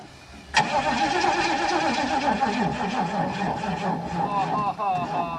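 A 1986 Pontiac engine cranks over on a weak battery after gas was squirted in, a sudden loud onset of steady mechanical churning that holds for several seconds, with people talking over it.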